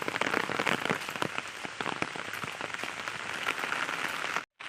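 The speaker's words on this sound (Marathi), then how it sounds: "खूप जोराचा पाऊस पडतोय आणि रस्त्यानं पाणी साठलेलं आहे." Heavy monsoon rain in Konkan pours steadily over a waterlogged road, a dense close hiss with patters of drops striking a surface, cut off by a brief silence near the end.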